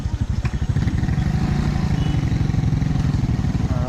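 Motorcycle engine labouring on a rough, frightening road, a steady close drone with a rhythmic low pulse that continues loudly throughout without a break.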